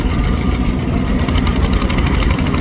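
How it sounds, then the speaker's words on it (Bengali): A passenger launch ferry's engine runs loud and close, a dense continuous rumble with a rapid knocking throb. "ইঞ্জিন স্টার দিয়ে ঠাস ঠাস করে যাইতেছে"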